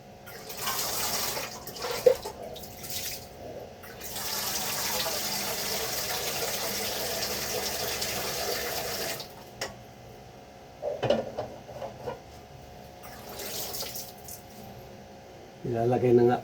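Water runs from a kitchen tap into a cooking pot being filled for boiling, a steady splashing rush that stops and starts several times, with small clanks between pours.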